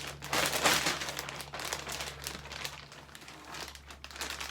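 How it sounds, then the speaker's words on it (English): A 2-gallon plastic bag holding marinated chicken breasts crinkles and rustles close up in bursts of crumpling, loudest at first and then easing off, with no speech. "I have a 2-gallon bag, which is gonna contain everything."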